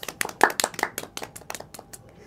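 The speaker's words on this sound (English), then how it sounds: "So now you can clap for yourself." Schoolchildren in an English class clapping for themselves, a short run of close, uneven claps from a small group, loose in rhythm and tapering off after about two seconds.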